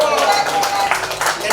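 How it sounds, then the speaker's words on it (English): Audience clapping for Mrs. Hariharan's birthday at an album launch, a dense, steady patter of many hands with voices mixed in underneath throughout. "let us clap for her."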